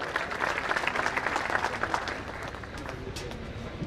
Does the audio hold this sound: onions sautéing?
no